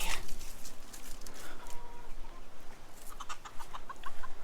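Hens and young chicks cluck and peep close by in a coop, with steady overlapping calls and a few sharper chirps throughout, no voices.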